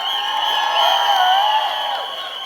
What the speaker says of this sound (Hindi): परेश रावल जी के लिए तालियां बजाइए दोस्तों